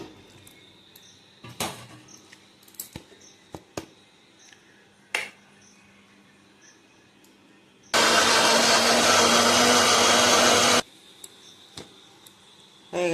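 A mixer grinder whirs loudly and steadily for about three seconds, blending jackfruit pulp with water, between scattered quieter clicks and kitchen taps.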